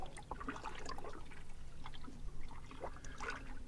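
Soft water splashes and trickles from canoe paddle strokes on a lake at a quiet, irregular pace, heard close against a faint background hush.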